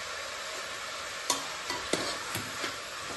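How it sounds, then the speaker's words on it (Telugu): A spoon stirs mixed vegetable curry with tomatoes and dry coconut powder in a sizzling pan, a steady frying hiss punctuated by several distinct scraping clicks of the utensil against the pan. "ఇలా ఒక్కసారి కలిపేద్దాం"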